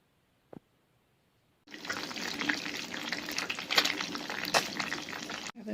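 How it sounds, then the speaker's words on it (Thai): After a single click and a moment of quiet, a loud, steady sizzling hiss starts abruptly as sun-dried snakehead fish fries in oil, continuing until it cuts off. "เราก็จะทอดตัวหนึ่งก่อนนะคะ"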